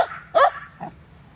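A cranky dog gives two short, sharp barks close by, the second softer and lower, with a faint whimpery tail and quiet background between them.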